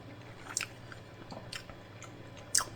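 Quiet, close chewing of a kimchi shepherd's pie, with a few soft crunchy bites standing out against a faint steady room hum.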